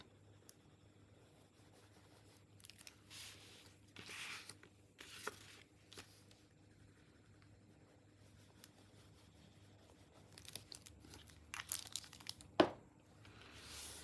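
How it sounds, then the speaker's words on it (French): Paper greeting card being folded shut over glue and aligned, giving faint, intermittent crinkles, soft scrapes and rustles in a quiet room, with a sharper crisp tap near the end and no talking. "on va rabattre notre carte et on va bien aligner tout ça"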